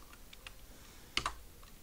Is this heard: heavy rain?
no